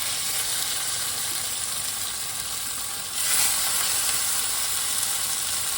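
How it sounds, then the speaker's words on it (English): Salmon sears in hot olive oil in a pot, a steady close broadband sizzle that swells a little louder partway through, with no talk. "Let this sear for about 4 minutes, and then you're gonna turn it"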